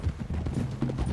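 Horse hooves clip-clopping in Red Dead Redemption 2, a dull steady rhythm of low thuds close by, with no talking over them.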